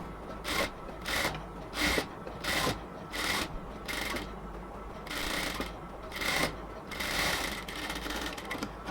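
A sewing machine stitches luxury cotton dress fabric slowly and carefully. It makes a rhythmic run of mechanical whirring bursts with short pauses between them, close and moderately quiet, with no talking.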